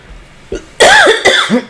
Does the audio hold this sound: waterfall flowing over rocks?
no